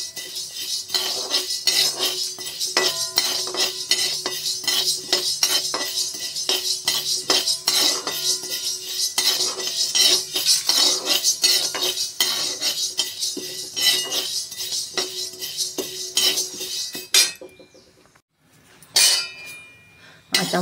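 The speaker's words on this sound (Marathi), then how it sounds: "आता मूग डाळ भाजायला घेतलंय." Mung dal dry-roasting in a pan for methkut, stirred steadily with a metal spoon that scrapes and clinks against the pan in a dense, continuous rattle, close and fairly loud, breaking off briefly near the end.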